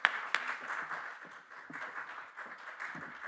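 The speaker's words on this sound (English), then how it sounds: "Everybody give them a round of applause." Applause for panelists at a sports broadcasting industry panel, faint scattered clapping from an audience with a couple of sharper claps at the start, distant and fading to a soft murmur.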